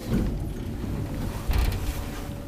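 Door lock mechanism of an old, updated Kone traction elevator in an apartment building in Myyrmäki, Vantaa, Finland: a low mechanical creaking and grinding hum, with a louder clunk partway through, close and without talk.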